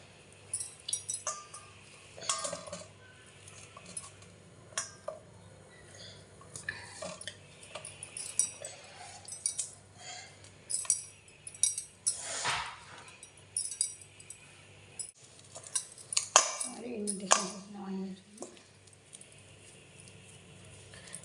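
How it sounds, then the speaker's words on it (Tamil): Boiled potatoes being mashed in a bowl, with soft repeated squelching and clinking of utensil against the bowl in irregular bursts, close and moderately quiet, with no talk. "நான் ரெண்டு உருளைக்கிழங்கு நல்லா வேக வச்சு எடுத்து வச்சுருக்கேன் இப்போ இதில் நல்லா மசித்து"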